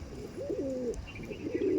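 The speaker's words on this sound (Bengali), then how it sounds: "দেখুন খুবই অ্যাগ্রেসিভ পায়রা।" Madras pigeons coo in a loft with a few low, rolling, throaty calls close by, repeating over a steady background hum.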